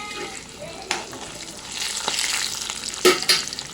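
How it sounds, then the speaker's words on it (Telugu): Chana dal, urad dal, green chillies, mustard seeds, cumin and curry leaves sizzle in hot oil for a lemon rice tempering, a steady crackling fry with a few sharp spoon-stirring clinks near the end. "పచ్చిశనగపప్పు, మినప్పప్పు, పచ్చిమిరపకాయలు, ఆవాలు, జీలకర్ర, కరివేపాకు అన్నీ వేసేసుకుని ఒకసారి వేసుకోవాలి."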